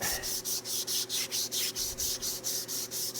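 Steady back-and-forth rasping of a hand file or abrasive smoothing the outside splines of a metal shaft, about a dozen even strokes, close and alone.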